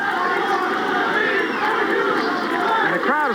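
Boxing arena crowd at the end of the Doug DeWitt vs Robbie Sims fight, a loud, sustained roar of cheering and shouting spectators filling the hall without a break, with individual yells rising near the end.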